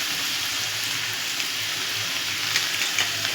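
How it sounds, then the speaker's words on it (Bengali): Potatoes and onion sizzle in a frying pan with a steady, close hiss and crackle of hot oil, with faint occasional stirring ticks. "এবার এর মধ্যে আমি আলু আর পেঁয়াজটা ভেজে নেব।"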